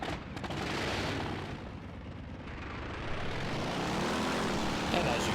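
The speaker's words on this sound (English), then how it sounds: "We'll go ahead and start the vehicle and drive around a bit." A vehicle engine in a video game drones steadily as it starts and drives around, a broad rumbling hum with rising and falling pitch as it shifts up, with a voice speaking over it.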